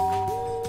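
A doorbell in the Danganronpa video game gives a single short electronic ding, clean and fairly quiet, with nothing else sounding.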